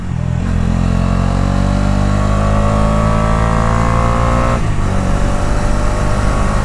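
Loud, steady engine drone of a 2024 Bajaj Dominar 250 motorcycle being ridden, with a continuous low rumble and a slight shift in pitch partway through.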